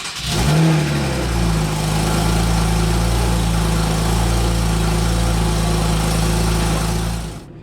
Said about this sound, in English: So let's turn it on and see if it's okay, or if not.